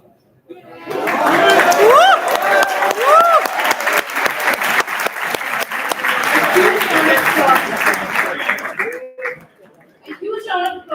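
An audience at a university commerce fest quiz gives a sustained round of applause for the participants, dense clapping mixed with a few cheers and voices, fading out near the end.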